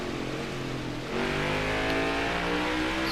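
A stock car engine in NASCAR Heat 5 at the Road America circuit, droning steadily and then rising in pitch as the throttle opens, loud and close with no talking.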